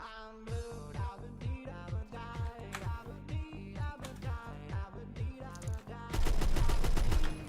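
Gunfire rattles in a rapid rhythmic stream of repeated shots during a Phantom Forces first-person shooter match, ending in a louder, dense burst that fits a grenade blast amid the shooting.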